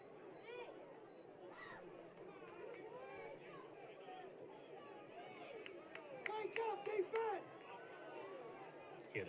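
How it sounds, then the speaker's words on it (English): Crowd at a varsity high school football game between Mishawaka and Concord, a steady babble of many voices with a burst of louder rhythmic shouting and chanting rising near the end over constant stadium murmur. "Hear the crowd saying, "Wake up, defense!""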